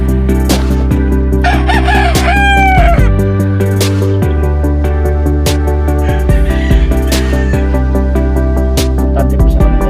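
Fighting rooster on a farm crowing loudly and close, a long rising cock-a-doodle-doo early on with clucks and short calls after, over a steady low hum.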